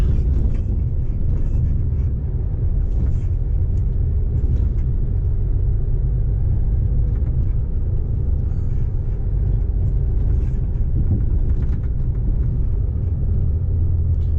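Articulated truck engine idling and pulling slowly during a blindside reverse into a yard beside parked trailers, a steady loud low rumble that holds throughout with no talk.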